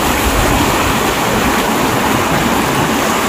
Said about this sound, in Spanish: como pueden ver ya hay bastante flujo de agua